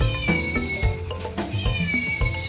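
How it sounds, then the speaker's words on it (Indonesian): A toy cat gives out repeated high, wavering kitten-like meows, loud and close, in quick succession with short gaps between cries. "Suaranya kayak anak kucing,"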